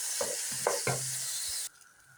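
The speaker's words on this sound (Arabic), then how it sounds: "وبعد كده هنزل بالرز اشوحه." Rice being stir-fried in a pan, a brief close sizzle with a few scraping stirs that stops abruptly, leaving a quiet hum and no talk.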